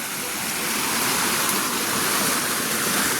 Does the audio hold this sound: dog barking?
no